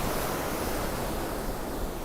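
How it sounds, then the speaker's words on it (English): Ocean surf rolls in along a coastal walkway in New Plymouth, New Zealand, a continuous loud, broad roar of breaking waves with wind, steady throughout and without any voices. "You can see the power of the ocean."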